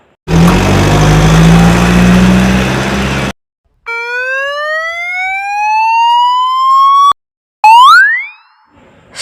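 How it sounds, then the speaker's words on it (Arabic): A police car siren gives a steady rising wail for a few seconds. It comes after a rumbling vehicle engine and is followed by a cartoonish boing. The sound is loud and clear, with no talking. "سيارة الشرطة."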